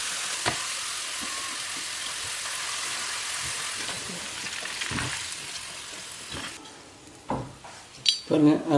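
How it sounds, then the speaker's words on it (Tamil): Homemade crispy potato finger chips fry in hot oil in a pan with a dense, steady sizzle and occasional utensil clinks, which thins out toward the end as louder knocks and clatter take over. "அதுக்கப்புறம் தான் நான் எண்ணெயில் இதை பொரிச்சு எடுக்க போகிறேன்."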